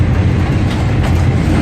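A train travels along a railway track in Karachi, Pakistan, heard from on board as a loud, steady low rumble with faint rhythmic clatter throughout.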